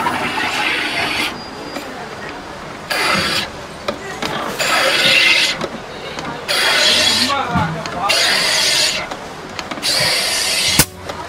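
A Mr.Butler instant soda maker is charged with gas in several loud hissing bursts separated by pauses, while a person talks throughout.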